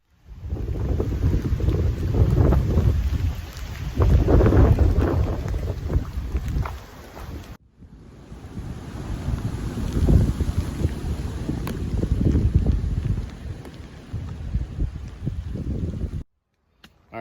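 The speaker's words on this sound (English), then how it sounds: "it's really windy" Strong wind buffeting the microphone on a mountain trail at Big Run and Furnace Mountain, a loud, roaring rumble in uneven gusts that stops briefly midway before surging again, with no talking.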